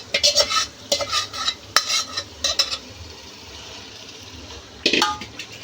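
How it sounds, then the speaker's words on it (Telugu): A spoon stirs prawns in a pot for prawn biryani, producing bursts of scraping, clinking metal strokes in an uneven rhythm, a pause of near quiet, then one more stirring burst near the end. "కలిపించిన రొయ్యలు కలిపేస్తున్నారు."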